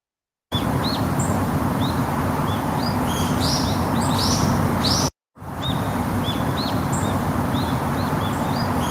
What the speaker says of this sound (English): you can hear like a very slight echo in the bird chirping noise